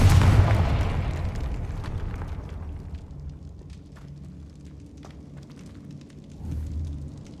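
A Confringo fire spell blast in the Hogwarts Legacy game, opening with a loud booming explosion that rumbles and fades, scattered crackles and pops, then a second low swell of impact near the end.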